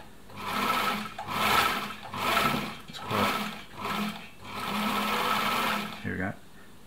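An Elna Supermatic SU 62C sewing machine stitches a buttonhole in several close bursts of whirring needle action, separated by brief pauses, with a voice talking over it.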